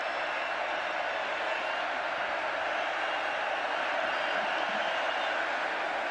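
Baylor football stadium crowd at a 2011 game against Missouri, a steady loud roar of cheering and noise on a third down, continuous and dense with no break.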